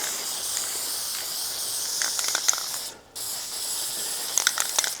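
Rust-Oleum Rust Reformer spray paint hisses steadily from a can in a shop, a continuous close spray with a brief pause near the middle before it resumes.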